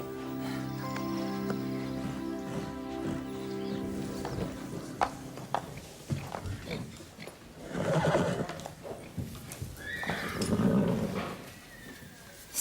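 A cartoon mare whinnies clearly over a music bed, with light hoof clip-clop and a couple of louder neighing bursts toward the end.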